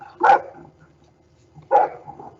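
A police K9 dog barks twice, two sharp, close woofs about one and a half seconds apart, with quiet pauses around them.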